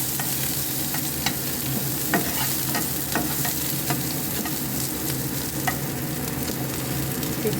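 A spoon stirs ingredients such as bay leaf around in a hot frying pan for fried rice, giving a constant close sizzle with soft, irregular scrapes and taps throughout and no talk.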